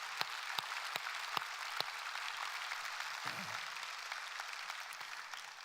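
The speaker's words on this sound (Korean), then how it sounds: "우리 선교사 후보생들 한번 일어서실 때 박수로 환영해 주시기 바랍니다" A congregation at a Sunday worship service applauds to welcome missionary candidates in training; the clapping is fairly quiet and steady, a soft wash with a few sharper claps standing out near the start.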